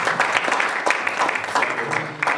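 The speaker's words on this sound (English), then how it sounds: "A round of applause for Mrs." Audience members at a political summit give a round of applause, a close, dense patter of many hands clapping steadily throughout.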